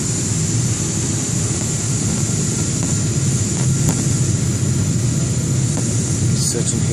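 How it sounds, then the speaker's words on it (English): An Air India airliner landing at New Delhi airport, heard from inside the cabin as a steady, loud low roar of engines and airflow, continuous throughout with no talk. "Now here you can see the landing to New Delhi."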